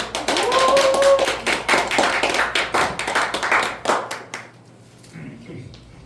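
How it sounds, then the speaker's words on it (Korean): A church congregation at a Christmas service claps in scattered, uneven bursts that thin out and fade toward the end, with brief voices mixed in. "나올 때 좀 박수 좀 쳐주세요."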